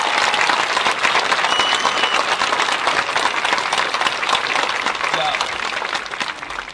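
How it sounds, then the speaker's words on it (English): A graduation crowd gives dense, continuous applause for senior chamber singers, loud and sustained throughout with scattered voices and cheers underneath. "How about another round of applause for our senior members of the chamber singing?"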